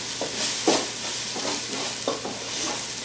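Vegetables sizzle in a pan with arrowroot while a utensil stirs and scrapes them in several uneven strokes over a continuous close frying hiss.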